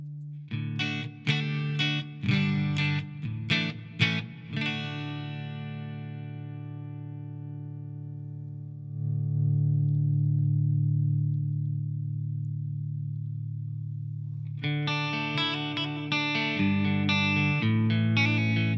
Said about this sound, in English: kind of reverb sound.